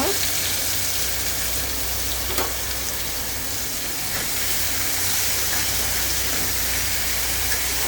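Bitter gourd pieces frying in hot oil with panch phoron, a loud, dense, continuous sizzle and hiss close up, steady for the whole stretch.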